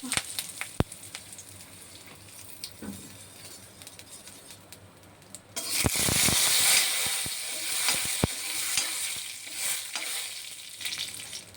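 Curry leaves hit hot oil with a sudden loud, spitting sizzle midway, after a quieter stretch of faint crackling and a few clinks; the hissing stays strong and crackly to the end.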